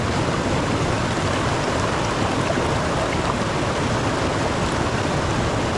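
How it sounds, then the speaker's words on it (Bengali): The Rimbi River near Pelling rushes past in a dense, loud, continuous roar of flowing water, close by and unbroken, with no voices audible. "আর এখানে জলের কিন্তু প্রচুর শব্দ হচ্ছে"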